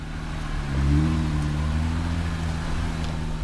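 Off-road vehicle engine pulling up a rocky trail in Moab, Utah, a steady low-pitched drone that swells briefly as it climbs, heard close and continuous with no talk.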